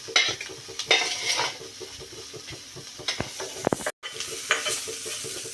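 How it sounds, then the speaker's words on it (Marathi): Green chillies fry in hot oil in a pan, a steady close sizzle broken by scraping stirs and a few metallic knocks of the spatula, with a brief dropout near the end; no one speaks. "मिरची जरा डाग पडेपर्यंत आपल्याला अशी फ्राय करायची आहे"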